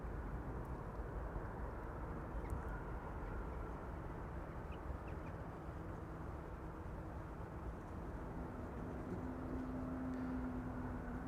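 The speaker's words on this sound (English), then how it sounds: "this is Air Baltic, which I think this time is flying for Austrian, a Bombardier C-Series 300 to Vienna." An Air Baltic Bombardier C-Series 300 airliner at Amsterdam Schiphol produces a faint, steady low engine rumble from a distance, with a thin whine emerging near the end and no talking.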